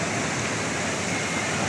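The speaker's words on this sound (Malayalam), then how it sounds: "ഈ വീടിൻ്റെ അങ്ങേ ഭാഗത്തു കൂടെയാണ് പുഴ പോകുന്നത്" A river running past a house in a Wayanad, Kerala hillside after a landslide gives a steady, broadband rush of flowing water, loud and unbroken throughout with no voices.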